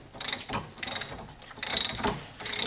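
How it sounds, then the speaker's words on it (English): A ratchet is turned on a torque multiplier to break a stubborn bolt loose, giving four close bursts of quick metallic pawl clicking separated by short pauses. "you turn the ratchet in the normal direction"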